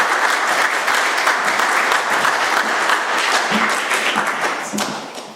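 An audience at an AA meeting applauds the speaker, a loud, dense burst of clapping from a roomful of people that continues steadily and tapers slightly near the end.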